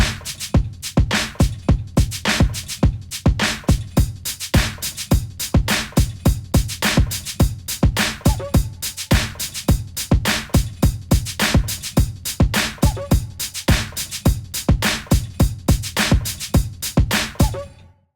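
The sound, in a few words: drum machine beat pattern called Boom Chicka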